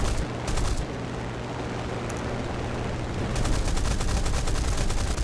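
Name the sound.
Spitfire LF Mk IX guns firing, War Thunder video game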